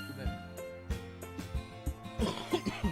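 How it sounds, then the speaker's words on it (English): A person coughs repeatedly in short, uneven bursts, close and fairly quiet, several sharp rasping hacks with brief throat-clearing between them. "I got a cough because I've been doing so much reading."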